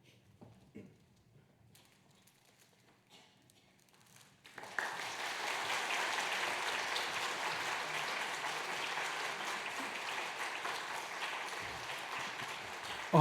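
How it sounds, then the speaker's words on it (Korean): A church congregation applauds, a long, steady burst of clapping that starts abruptly after a quiet stretch and holds at full strength without talk. "감사의 마음을 담아서 큰 박수 부탁드립니다"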